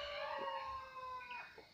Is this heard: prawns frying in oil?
no